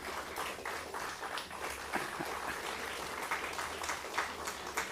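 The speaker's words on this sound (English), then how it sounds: "A big applause for this particular industry, please." Applause fills a hall at a conference award ceremony at GITAM University: a steady, dense crowd clapping that holds at an even level throughout.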